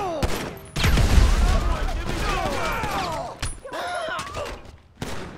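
A burst of explosive blasts and rapid gunfire erupts in a GTA 5 shootout at a house, loud and chaotic, with a deep boom early on followed by crackling shots and debris, mixed with shouted game dialogue.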